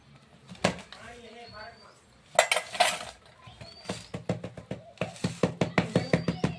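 A ghee-greased spoon scrapes and taps against a metal dish while spreading peanut sweet, ending in a quick series of rhythmic clinks, with someone speaking briefly near the start.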